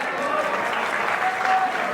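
Steady applause from an annual-function audience greets a prize presentation to a student on stage, even and sustained throughout with a dense crowd texture.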